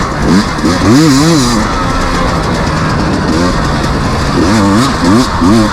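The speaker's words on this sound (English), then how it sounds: "And then watch, no problem taking off. Still got plenty of power with the 250." A 2021 KTM 250 XC W two-stroke dirt bike accelerating away, its loud engine note rising and falling in repeated rev sweeps through gear changes, close and dominant with rough wind buffeting.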